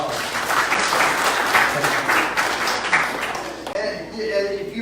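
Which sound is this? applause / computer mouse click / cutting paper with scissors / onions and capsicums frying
applause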